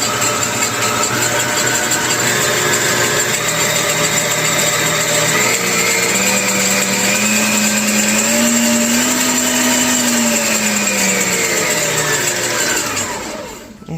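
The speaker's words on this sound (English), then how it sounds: "if you're wondering how loud the mixer actually is, I don't think it's quiet." An empty Beautiful stand mixer by Drew Barrymore whirs at speed 12, a loud, steady motor drone with a rising whine that holds close and continuous before cutting off at the end.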